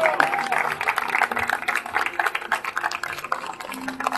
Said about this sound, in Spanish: Que se escuche un fuerte aplauso.